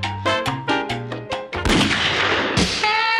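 Rhythmic tonal pulses, then a sharp loud blast at about 1.6 seconds and a second at about 2.6 seconds, each followed by a noisy rumble.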